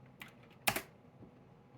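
A few keystrokes on a computer keyboard while commands are entered during a Windows 11 install: two faint taps, then one sharper, louder key press, heard close and quiet.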